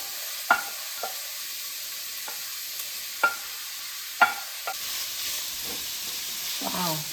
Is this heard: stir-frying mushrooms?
yes